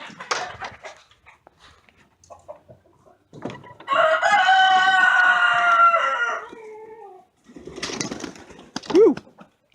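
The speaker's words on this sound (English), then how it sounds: "Look at some chickens." Rooster crowing on a mini farm, one loud, drawn-out call in the middle, surrounded by chickens clucking and scattered bird noises, with a dog joining in and other farmyard calls near the end.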